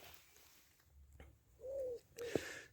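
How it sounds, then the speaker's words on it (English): Pigeons coo twice at moderate distance outdoors near a garden strawberry patch on a hot, humid day, with a short sharp click between the calls and a quiet background. "that's got to be those pigeons you can hear in the background"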